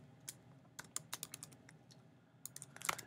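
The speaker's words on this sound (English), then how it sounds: "We're going to hit F8 on our keyboard" Soft clicks from a computer keyboard come in irregular bursts, with a quick flurry of keystrokes near the end, all quiet and close with no talking.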